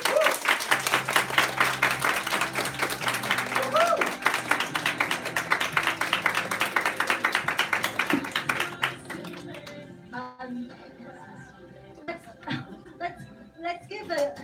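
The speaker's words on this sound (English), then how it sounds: "Let's give a big applause to thank him for his great sharing today" Applause from an audience at a corporate talk, a dense patter of many hands clapping steadily for several seconds before thinning into scattered claps, with some chuckles and talk underneath.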